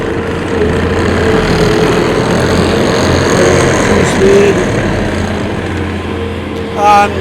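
A 2019 Bobcat T595 rubber-track skid steer loader with a 74-horsepower engine running at a steady idle nearby, a low continuous drone with a brief rise near the end.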